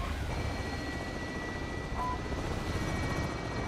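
A helicopter in Call of Duty: Modern Warfare holds a steady, loud rotor and engine drone throughout, with a faint high whine running above it.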